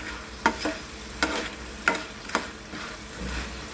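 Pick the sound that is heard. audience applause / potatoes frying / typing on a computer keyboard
potatoes frying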